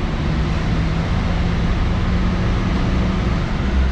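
A Chevrolet C5 Corvette pulls hard in second gear, a loud, steady engine roar with a low droning note that holds throughout, recorded from inside the car.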